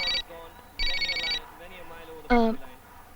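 A cordless home telephone rings in short electronic bursts, three rings spaced about a second apart, fairly close and clear, with a person's voice talking faintly between them.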